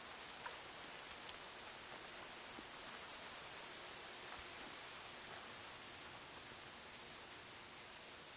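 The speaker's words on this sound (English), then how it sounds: "Rain stopping. Knew it wouldn't last." Steady, even rain in the video game Horizon Zero Dawn hisses throughout, soft and continuous with faint scattered drops, no voices or other sounds.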